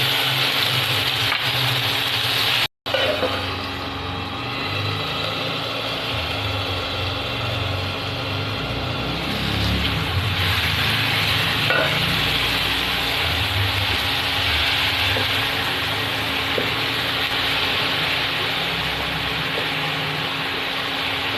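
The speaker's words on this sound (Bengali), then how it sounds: "এরপর আমি আদা রসুন পেঁয়াজের পেস্টটা ভেজে নিচ্ছি।" Ginger, garlic and onion paste fries in a pan for fish curry, a steady hiss and sizzle continuing throughout with occasional stirring scrapes and a low engine-like hum underneath.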